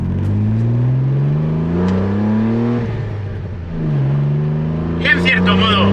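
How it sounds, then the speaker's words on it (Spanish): A Renault Clio V6 accelerates with its engine and intake roaring close and loud, the pitch climbing in rising sweeps, dipping at a gear change, then climbing again before a brief higher rasp near the end. "entra muchísimo el motor en tus oídos, está súper presente el sonido de admisión"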